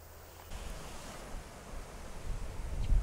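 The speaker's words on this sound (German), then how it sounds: "Es ist auch zu windig" Gusty wind buffets the microphone outdoors on a nature trail by the Meldorf bay, a low rushing roar that rises and swells toward the end.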